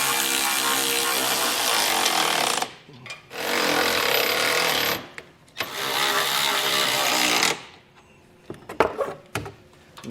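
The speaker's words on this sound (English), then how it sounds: "Now we'll go back and tighten these down with a 17mm socket." A power tool spins a 17mm socket, driving bolts tight on a base plate kit for a 2015 Jeep, in three long loud whirring bursts followed by shorter clattering sounds.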